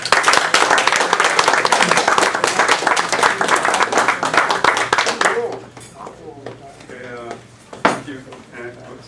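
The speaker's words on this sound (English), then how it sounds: "let's have a warm round of applause for our speaker this evening, Ted Aranda." An audience applauds a speaker at an evening talk on democracy, a dense burst of clapping for about five seconds that fades to scattered claps, with murmuring and a few clattering noises after.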